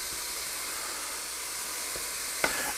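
Fat sizzling and hissing in a pan on high heat for walleye chowder, a steady bright crackle throughout with a small clink near the end.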